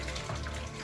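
Water poured into a homemade rock tumbler barrel holding large rocks and abrasive grit, a brief steady splashing rush heard up close.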